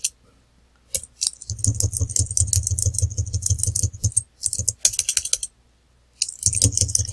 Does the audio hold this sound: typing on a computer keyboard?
yes